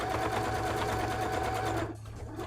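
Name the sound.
sewing machine stitching straight lines for embroidery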